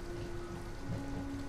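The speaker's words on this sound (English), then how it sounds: "I fucking came back here because I'm getting rained on" Steady rainfall in the video game Detroit: Become Human, a soft continuous patter and hiss with a faint low hum underneath.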